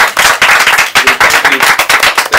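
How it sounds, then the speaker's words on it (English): Loud, close clapping from an audience thanking an organizer at a community event, dense sharp claps rolling continuously with small surges and no voices over it. "Can you guys give Rhonda a hand of applause right now?"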